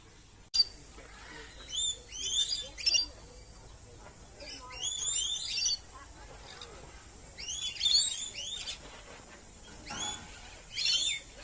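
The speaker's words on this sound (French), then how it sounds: "On entend des perroquets à côté." Shrill squawking calls from parrots close by in New Zealand, coming in repeated bursts with short quiet gaps between.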